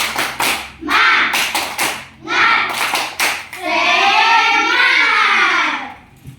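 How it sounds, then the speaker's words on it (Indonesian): A class of children claps a quick rhythmic pattern of sharp, loud bursts in short groups, then joins in a sustained shouted chant. "Kita tepuk semangat dulu."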